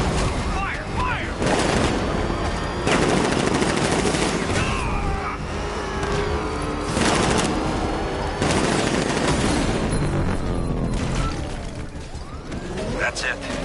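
Sustained automatic gunfire and bursts of shooting in the Batman Arkham Knight video game, loud and continuous throughout, with shouted voices over the battle.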